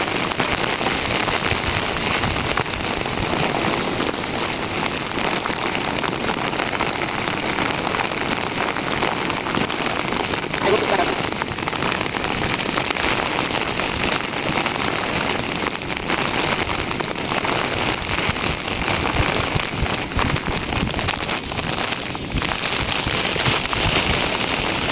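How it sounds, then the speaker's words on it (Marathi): Heavy monsoon rain pours steadily over paddy fields during planting of vari (little millet), a dense, unbroken close hiss that stays loud and even throughout, with no voices. "आज भरपूर पाऊस पडत आहे"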